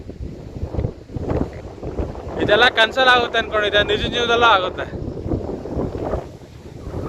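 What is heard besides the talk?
strong wind at Dhanushkodi seashore blowing into microphone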